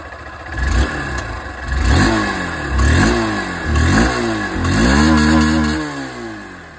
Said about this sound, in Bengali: এটা আপনারা মোটামুটি SP160 যে আওয়াজ সেটা শুনে নিয়েছেন, রেগুলার এক্সস্ট ছিল।